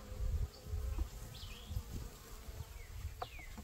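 Honeybees buzzing around an open hive during a first honey harvest, a close, steady drone with individual bees whining past, over low rumbling handling noise and no talking.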